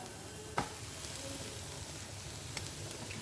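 Grated egg goes into onions frying in a pan, giving a low steady sizzle with a soft thump of the addition and faint stirring clicks, no talking.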